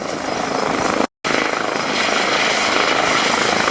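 A helicopter landing in a parking lot gives off a loud, close, steady rotor roar with a rhythmic chop, cut by a momentary dropout, with no voices.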